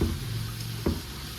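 Courgettes and green beans dropped into a hot pot for soupe au pistou, a close, steady sizzle with a brief knock partway through.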